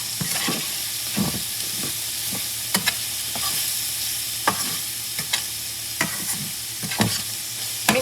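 Mushrooms and tofu sizzle in a hot pan over lowered heat for lemon pepper tofu, a constant frying hiss broken by repeated scraping stirs and utensil clacks, loud and close, no talking.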